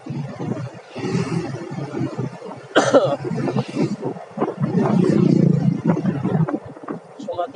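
A rider coughs repeatedly while travelling on a motorcycle, several harsh close coughs mixed with talk over a steady rumble of engine and wind noise.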